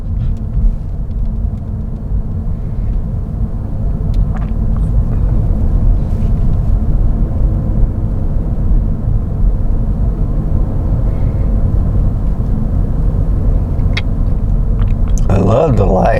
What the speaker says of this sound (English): But you can see all the traffic that's being delayed.